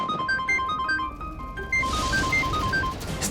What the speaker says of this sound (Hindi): इस टाइम किसका फोन आ गया?